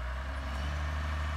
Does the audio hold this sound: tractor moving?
yes